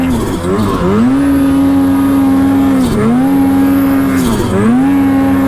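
A race car's engine roars steadily at high revs through a hot lap, its pitch dipping briefly three times as it lifts or shifts through corners, loud and close with no talk over it.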